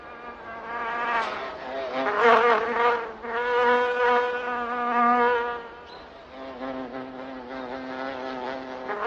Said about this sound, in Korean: 벌이 꽃으로 다가갈 때 조용히 소리를 들어보면 알 수 있습니다